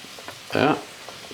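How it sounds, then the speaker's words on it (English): A sudden burst of loud sizzling as mushrooms drop into hot deep-frying oil, swelling for a moment and then settling back to a quieter background. "So I immerse them gentle into my deep frying oil"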